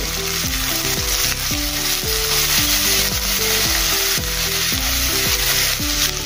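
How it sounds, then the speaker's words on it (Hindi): Ginger garlic paste frying in a pan for a chana dal pulao, giving a dense, steady hiss with no pauses, over a tonal music bed. "इसमें अभी हम अदरक लहसुन का पेस्ट डालेंगे। इसको भी अच्छे से भूनेंगे।"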